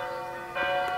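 Church bells ring in a village, a sustained, moderately loud metallic tone that swells slightly toward the end, with no voices.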